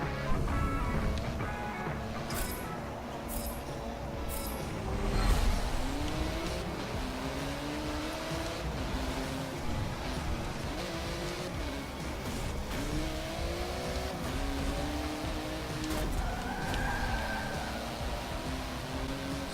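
A Porsche race car in Forza Motorsport 7 accelerates at Dubai, its engine revving and shifting gears loudly and continuously amid the roar of nearby cars, with brief tire squeals and no talking.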